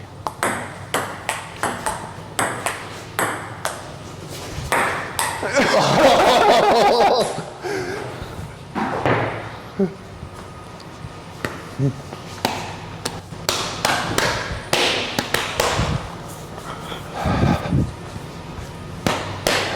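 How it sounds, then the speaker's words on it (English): A ping pong ball launching machine fires balls, giving repeated sharp pops and taps at an uneven rhythm, with people talking and laughing throughout. "It's a machine to fire ping pong balls."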